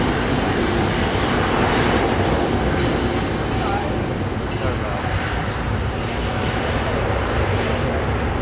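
Airbus Beluga XL cargo aircraft taking off from Heathrow Airport, a loud, steady broadband engine roar that holds continuously throughout with faint voices underneath.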